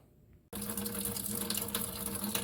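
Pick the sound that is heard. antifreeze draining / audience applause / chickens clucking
antifreeze draining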